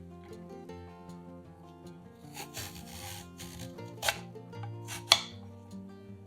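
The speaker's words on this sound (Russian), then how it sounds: "Берем длинную морковь и нарезаем ее тонкими полосками." A long carrot is shaved into thin strips with a vegetable peeler, producing a few rasping scraping strokes and a couple of sharp clicks over quiet background music, with no talking.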